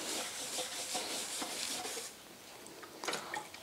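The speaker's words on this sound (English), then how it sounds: "So once again, apply some oil to the steel wool and start rubbing." Oiled steel wool is rubbed over the worn finish of a wooden table. It makes a close, steady scratchy swishing in back-and-forth strokes, eases briefly, then picks up again, with no speech.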